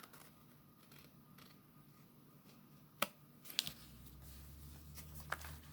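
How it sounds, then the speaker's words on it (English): Scissors cut through card with a couple of sharp, close snips standing out above quiet room tone, followed by faint low rumble. "just turn your card, cut this side off"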